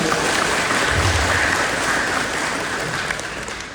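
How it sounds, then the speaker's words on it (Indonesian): A temple congregation applauding during a Buddhist talk, a dense and loud wash of clapping that stays sustained before easing slightly near the end. "kita berikan tepuk tangan dulu agar semuanya semangat ya"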